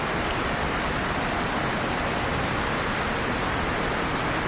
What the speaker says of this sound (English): So you have the waterfall flowing, the foreground flowing.